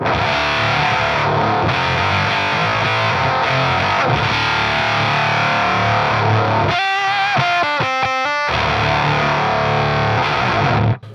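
A heavily distorted, fuzzy electric guitar through a Joyo Voodoo Octave Fuzz pedal with octave-up engaged sustains thick chords, then breaks into short choppy stabs before ringing out again.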